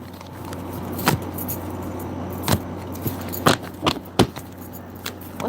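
A deck of tarot cards is shuffled loudly and crunchily up close, with sharp crackling snaps scattered irregularly over a low steady background hum.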